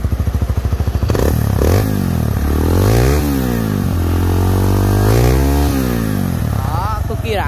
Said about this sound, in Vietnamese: mình sẽ vào phần chi tiết nổ máy luôn